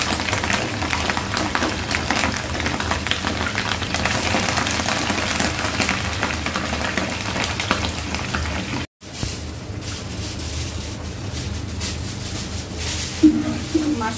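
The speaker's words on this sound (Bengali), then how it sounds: "মাশরুমটা দিয়ে দিলাম, মাশরুমটা একটু ফ্রাই করে নিব" Mushrooms fry in a pan with a continuous crackling sizzle like light rain, steady throughout apart from a brief dropout midway.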